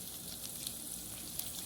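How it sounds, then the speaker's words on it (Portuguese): Chicken filling thickened with cornstarch sizzles and fries steadily in a pan for an empty pie filling, with soft scraping of stirring under a continuous close hiss and no talk. "vou colocar um pouco aqui, dar uma mexida, para cozinhar o amido"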